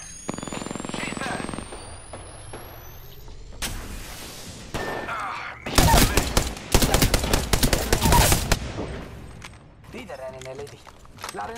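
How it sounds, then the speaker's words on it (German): Rapid automatic gunfire in an Apex Legends match, bursts of machine-gun fire crackling loudly in the middle, with single shots, footsteps and game effects around it and a player talking over the action. "Die schießen auf mich."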